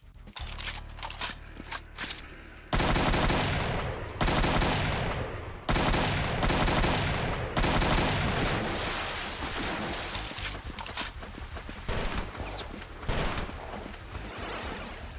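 Chaingunner machine gun fire in the Brutal Doom mod, loud sustained rapid bursts of shots starting after a few scattered blasts, continuing heavily with short breaks and fading volleys near the end.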